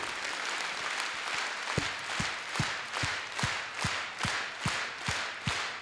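Audience applause filling a hall, with a steady wash of clapping and regular louder bursts, dense and sustained throughout.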